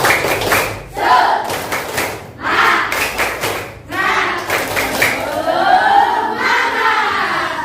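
Children in a classroom perform a rhythmic clapping chant, bursts of group claps and shouted voices in repeated phrases separated by short pauses.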